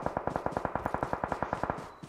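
Automatic gunfire in BGMI rattles out in a fast, even burst of about fifteen sharp shots, close and loud, ending with a single late shot.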